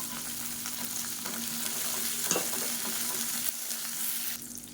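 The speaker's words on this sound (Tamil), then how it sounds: "இப்போ வெங்காயம் பூண்டு ஓரளவுக்கு நல்லா வதங்கிடுச்சு பாருங்கள்" Ten small onions and four garlic cloves frying in an oil-filled pan, a steady close sizzle with light stirring scrapes throughout, no voices.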